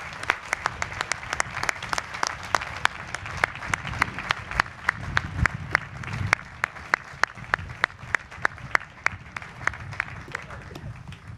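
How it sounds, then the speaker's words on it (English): A commencement crowd at Villanova University applauds the faculty, a broad, steady bed of clapping with a few sharp, distinct claps standing out nearby, continuing throughout. "May we please have a round of applause for all they have done for the graduating class"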